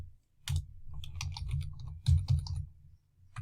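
Computer keyboard typing in short bursts of rapid clicks with pauses in between, close and fairly quiet, with no talking.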